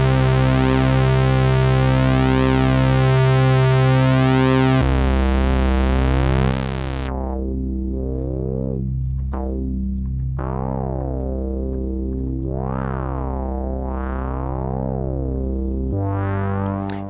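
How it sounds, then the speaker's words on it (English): A restored Micromoog analog synthesizer plays sustained, buzzy harmonic tones that shift abruptly, then moves into a run of stepped notes with sweeping filter swells, all loud and close with no talking. "I'll show you just kind of how this thing sounds in this instrument"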